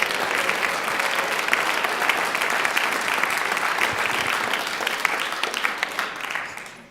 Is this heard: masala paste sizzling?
no